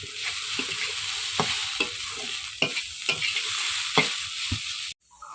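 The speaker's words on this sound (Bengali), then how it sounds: "আর এখন এই যে বরবটি আর আলু ভাজাটা বসালাম।" Green beans and potatoes sizzle steadily in hot oil while a utensil scrapes and stirs in repeated strokes, close by, ending abruptly.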